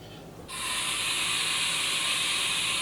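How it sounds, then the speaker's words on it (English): A Haas vertical machining center's 20-position automatic tool changer cycles through a tool change, opening with a sudden loud, steady rush of air-like hiss that holds evenly to the end, with faint mechanical ticking underneath. "You're simulating a tool change there."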